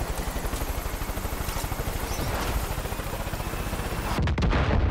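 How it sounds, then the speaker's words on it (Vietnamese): Dense, loud gunfire and explosive blasts in the Far Cry 5 video game, a continuous rumbling barrage of overlapping shots ending in a few heavy booms. "Ô trời ơi, nổ luôn rồi."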